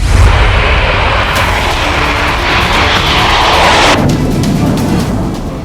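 An F-16 fighter jet roars loudly overhead in a sustained, broadband engine blast that peaks and then tapers as it passes, with no voices.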